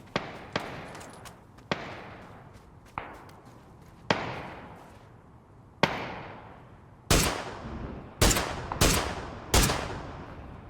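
Heavy gunfire from a big gun in a shooter video game, with sharp loud shots in an irregular series, spaced at first and then bunched closely near the end, each one trailing off in a brief echo.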